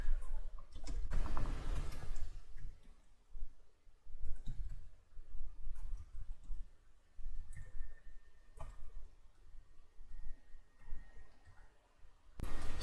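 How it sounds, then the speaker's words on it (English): Clicks and taps of a computer keyboard as C code is typed into the Atom editor on Windows, an irregular run of soft, close keystrokes with a few louder bursts, no talking. "let me type this in real quick"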